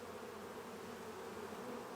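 Honeybees drone steadily during an open hive inspection, a dense, continuous buzz of many insects close by, with no talk.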